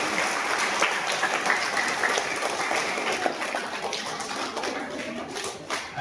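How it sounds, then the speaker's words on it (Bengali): A crowd of students and teachers claps for a children's school performance at a St. Thomas' School, Krishnapur, Rabindra Jayanti celebration: dense, sustained applause of many hands, steady and fairly close throughout. "তোমাদের জন্য একটা জোরে হাততালি"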